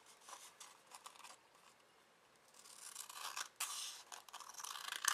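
Scissors slicing through paper card, a quiet run of short crisp snips that grows denser and louder toward the end, alone without any talk.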